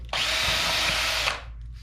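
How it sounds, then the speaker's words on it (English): A power drill fitted with a 1/2 inch countersink bit bores a hole into a kayak hull in one steady, loud, close whine lasting about a second, then spins down. "I am actually using a 1/2 inch countersink to make my hole because it makes a nice clean hole."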